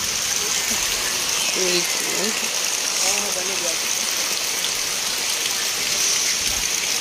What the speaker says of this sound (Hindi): ये देखिए बारिश हो रहा है आराम से।